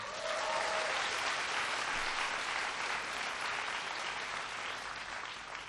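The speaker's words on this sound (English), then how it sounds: "Give, too, a big round of applause for..." An audience at a presidential town hall event in Vietnam breaks into sustained applause, a thick, loud wash of many hands clapping that holds steady and tapers slightly at the end.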